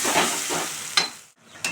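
Small tomatoes sauté in a pan, a short close burst of sizzling with a couple of quick stirring scrapes and a brief pause before the frying hiss resumes.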